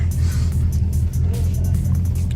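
Car creeping slowly through a dense crowd at a car meet, a deep low engine rumble held close and steady, with brief higher bursts of crowd noise over it.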